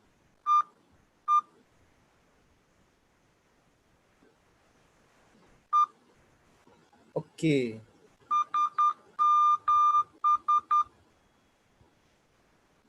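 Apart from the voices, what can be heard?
Morse code beeps at 10 words per minute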